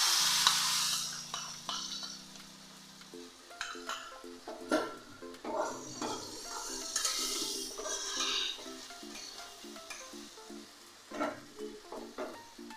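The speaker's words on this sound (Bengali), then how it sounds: "এবার আমি দিয়ে দিচ্ছি মশলার পেস্টটা।" Spice paste stirred and frying in a pan with chopped onion, Kashmiri chili powder and garam masala for steamed egg curry: a steady sizzle under repeated scraping and clinking of a spoon against the pan, close and fairly loud, with no talk.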